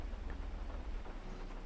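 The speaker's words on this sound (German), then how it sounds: "Jetzt höre ich Regen." Steady rain in the video game GTA patters and hisses at a low, even level with a faint low rumble beneath, no voices present.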